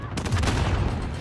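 A short, dense burst of explosive gunfire-like blasts in a Modern Warfare match, loud and harsh, with a voice faintly under it.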